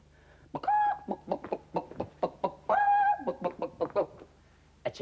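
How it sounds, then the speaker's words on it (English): Chicken clucking in a fast, uneven series of sharp, throaty calls, with two longer drawn-out squawks among the short bursts, loud and close against a quiet background. "A chicken coming home from the chippy."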